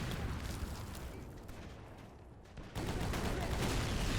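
Rapid gunfire in a trench-warfare video game, a dense crackling burst of shots that dips briefly and then surges back louder, continuous over a noisy battlefield bed.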